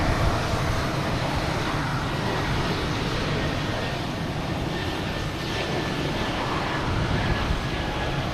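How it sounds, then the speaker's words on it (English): A Delta Airbus A220 jet taking off at Boston Logan Airport, heard as a dense, hissing roar that stays loud and even throughout, mixed with general airport and traffic noise. "Another Delta heading to LaGuardia in A220."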